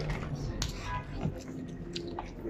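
Someone chews food after biting into it, with close, wet, squishy mouth sounds and soft crunches repeating irregularly, alongside faint background murmur.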